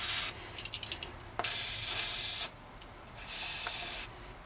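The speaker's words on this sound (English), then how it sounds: "And if I just blast some silicone spray in there." Silicone spray blasted into a sticky Shimano Altus bike shifter after a solvent clean: short spitting bursts, then a loud sustained hiss, a pause and a second softer steady spray, close up with no talking.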